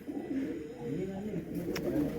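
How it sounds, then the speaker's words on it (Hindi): Domestic pigeons coo steadily in a rooftop loft in Hazro, their low, throaty calls rolling on without pause and fairly close, with voices murmuring in the background. "यहाँ पे जी हमारे दोस्त सुहेल साहब के भी कबूतर मैंने देखे हैं।"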